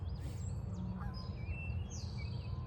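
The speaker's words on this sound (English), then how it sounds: "There's some beautiful geese flying by." Several geese honk as they fly past outside, their calls thin and fairly distant above a steady low rumble of background noise.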